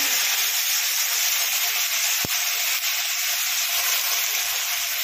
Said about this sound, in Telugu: ఇప్పుడు ఈ గోంగూర ఈ ఆయిల్లో వేసేసుకోవాలి.